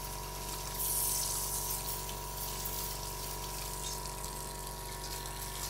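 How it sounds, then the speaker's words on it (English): Water forced through an airbrush while cleaning it, a steady hissing spray with a constant mechanical hum beneath, continuous and fairly quiet with a brief louder surge near the start. "So you want to keep squeezing until it comes out with clean water"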